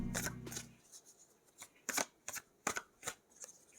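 Tarot cards are shuffled ahead of a nine-card spread, giving a run of crisp riffling bursts followed by several short separate slaps and flicks. The sound is close, quiet and heard alone.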